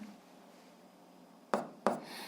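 Two quick, sharp scratches of writing out an algebra exercise on a quiet surface, each stroke short and close, with faint room hiss before them.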